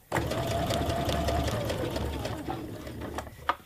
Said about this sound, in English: So what I want is, I want the seam to reach exactly this corner,